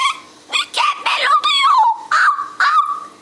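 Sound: child imitating dog barking

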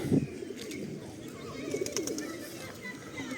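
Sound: pigeons cooing

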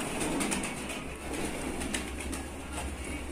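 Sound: Shahjahanpuri breed pigeons on a rooftop

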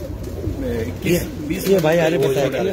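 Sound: pigeons cooing

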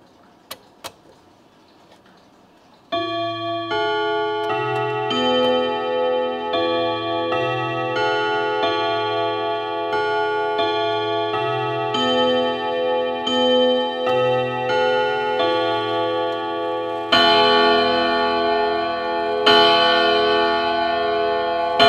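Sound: antique pendulum clock striking its chime

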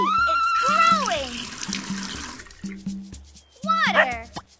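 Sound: water pouring, cartoon

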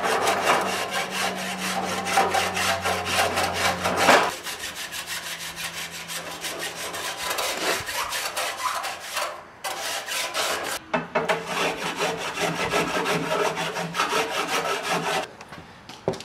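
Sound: hand rasp shaping a wooden stick handle

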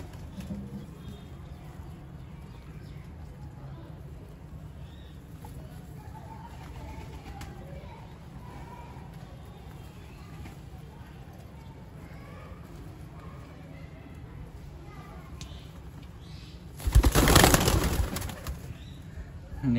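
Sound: pigeons cooing

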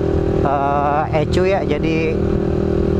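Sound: Suzuki Sonic 150R motorcycle revving with BRT Juken 5 ECU

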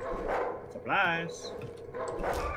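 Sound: dogs barking in video game Darkwood

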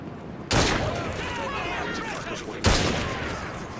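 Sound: volley of gunfire in Assassin's Creed Syndicate video game

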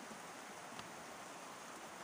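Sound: rain falling

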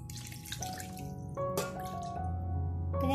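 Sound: water being added to milk powder in a pan

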